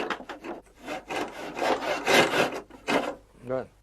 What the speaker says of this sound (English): Once the glue on the reinforcement tenon has dried, its ends can be trimmed